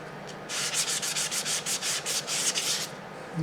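Sandpaper rubs back and forth over the epoxied edges of a wooden pencil clock in quick, steady strokes, about a dozen close passes with no talking.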